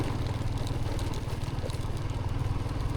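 Motorcycle engines idle and putter steadily at the start of a rough road in Zambales, a continuous close, loud low throb with a regular pulse and no talking.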